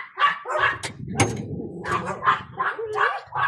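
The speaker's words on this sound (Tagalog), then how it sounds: "Daming aso dito guys." Several dogs bark and yip close by in quick overlapping bursts, with a lower growling undertone between barks.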